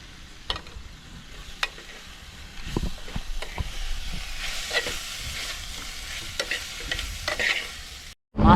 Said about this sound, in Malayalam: നമ്മുടെ എല്ലാ മസാലയും ചേർത്ത് കൊടുക്കാം